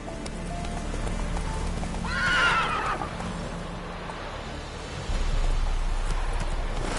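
In The Witcher 3, the horse Roach lets out a clear whinny midway while hooves plod at a walking pace over a steady ambient background.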